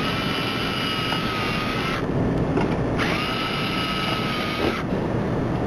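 A power drill with a .109-inch bit bores screw holes for number 8 fasteners through a template for an access panel hatch, a close, loud, high whine that drops and returns in short bursts with no talking.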